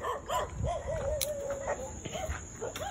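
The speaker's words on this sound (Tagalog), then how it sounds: "Grabe naman ba ang aso rito." Several dogs bark and yip in bursts of varying loudness, some nearby and some farther off, with brief faint talk in the background, during an outdoor catfish hunting trip.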